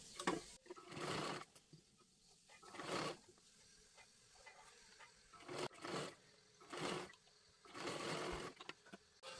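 A sewing machine stitches a puffed blouse sleeve in several separate bursts of rapid whirring, each a second or so long, with quiet pauses between them.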